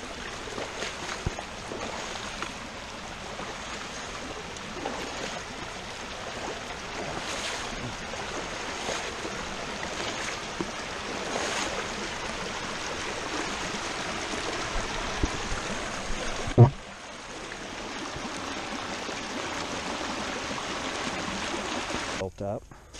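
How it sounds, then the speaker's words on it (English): Steady rushing water from a small waterfall swollen after rain, a continuous broadband wash with occasional wind buffeting on the microphone and a brief handling thump near the end, no talking. "And with all the rain, we're probably having some good amounts of water coming down this little waterfall."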